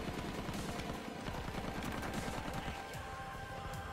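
Rapid, dense gunfire rattles in the video game Battlefield 1, a continuous burst of overlapping shots at moderate loudness throughout.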